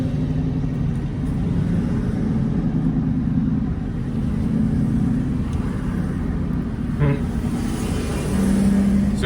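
Cars pass on a small road, heard from inside a vehicle as a steady loud rumble with engine drone and no clear breaks between passes.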